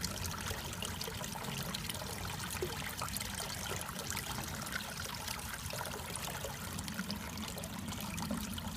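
A steady stream of water from a Jebao DC aquarium pump feeding a manifold trickles and splashes continuously, fairly quiet and even throughout with a low rushing hum beneath it.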